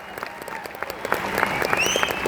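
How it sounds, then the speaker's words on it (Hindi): An audience at a Vestige business event in Rajeshwar breaks into loud, sustained applause, steady dense clapping with a few sharper claps standing out. "जोरदार तालियां इस बात पर।"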